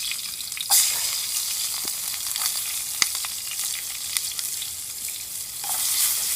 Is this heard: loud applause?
no